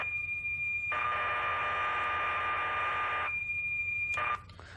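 A computer program loading from cassette tape as audio tones: a steady, harsh data whistle holding a sustained pitch, then a burst of noisy, buzzy tone and a brief switch near the end, loud and alone.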